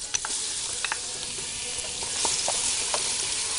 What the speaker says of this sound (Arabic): حطيت شويه زيت ورحت حط عليهم الثوم الاول